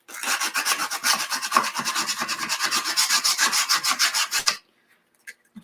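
Sandpaper scrubs rapidly back and forth across a wooden box frame, a close, rhythmic rasping of about two strokes per second for several seconds before stopping abruptly, followed by a couple of faint knocks.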